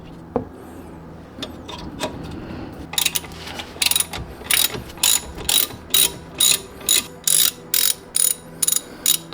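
A ratchet turning a number 7 hex bit loosens a brake caliper screw on a Ford Focus ST, giving a quick run of sharp, evenly spaced clicks, close and loud, after some softer handling noise.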